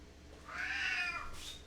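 A pet cat indoors in a kitchen gives one drawn-out, wavering meow, close and clear, followed by a short higher chirp at the end.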